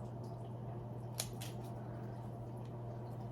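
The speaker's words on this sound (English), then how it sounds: "So what we're going to do is just snip off any remaining leaves" Scissors snip leaves off a basil stem: one crisp, close cut, then a fainter second snip, over a steady low room hum.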